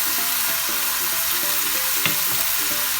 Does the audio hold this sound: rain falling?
no